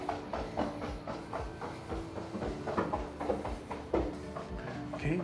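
Roofer banging while working on a roof two houses down, faint repeated hammer knocks in an irregular rhythm heard at a distance over background noise, with no voices.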